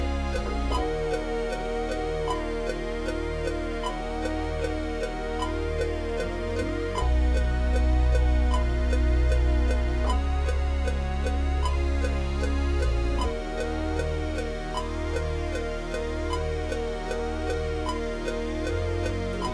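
A Juno synthesizer plays sustained chord swells with a low-cut filter sweep in a hip-hop beat, layered over a deep, booming bass line, dense and continuous, with no voices.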